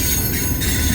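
A BNSF intermodal freight train rolls past in Colorado Springs, a loud steady rumble of wagons with faint wheel squeal, close and continuous.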